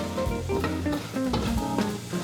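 Garlic and candlenut spice paste sizzling steadily in a pan over low heat, a continuous close frying hiss with some stirring, no talk, cooked for a crab dish.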